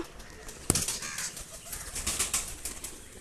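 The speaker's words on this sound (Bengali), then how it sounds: "দেখুন কবুতরটি" Close sounds of a Madras pigeon: a sharp flutter of wings followed by soft, low murmuring coos in a quiet setting.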